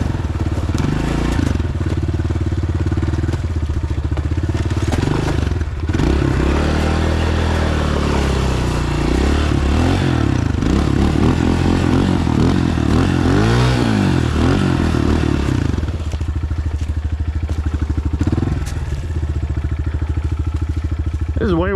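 A 2026 Honda CRF125F dirt bike engine running continuously up close while being walked over a branch, idling and revving with rising and falling pitch, under a man's speech.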